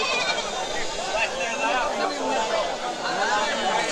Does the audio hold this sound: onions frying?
no